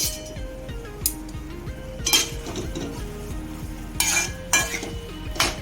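Spoon clinks and scrapes against a metal vessel while mixing a boiled potato mixture for vada pav, with repeated sharp taps over a continuous tonal background hum.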